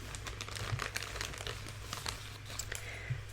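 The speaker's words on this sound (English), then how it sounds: "we can do some crinkling with the bag" A plastic bag being crinkled close up, soft crackling rustles in quick irregular bursts over a quiet background hum, with no voice.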